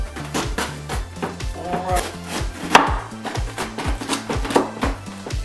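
A knife chops through a large head of cabbage being quartered for kimchi, giving firm, rapid thuds against a cutting board in an irregular rhythm, close and crisp, with crunchy leaf sounds between strokes.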